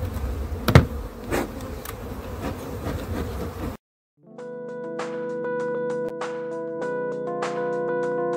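Honeybees buzz steadily around an open hive at a breeding and selection apiary in spring, a dense close drone with a few louder passes, then the buzzing cuts off into a brief gap.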